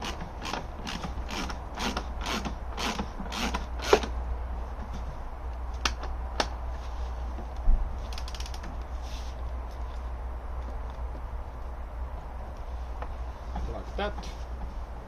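An axle rod is pushed through and its nut fitted on a red Piaggio scooter, heard as a quick cluster of metallic clicks and ratcheting taps early on, then sparse clinks over a low steady hum.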